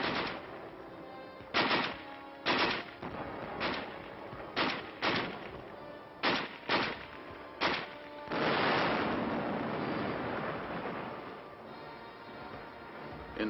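A big gun firing in the snow during the Korean War winter, with about ten sharp booming reports at irregular intervals, followed by a sustained loud rushing roar.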